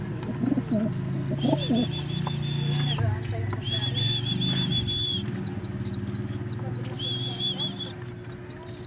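Pigeons coo in soft, low murmurs while high, repeated chirps ring out steadily above them. The birds sound close and continuous throughout.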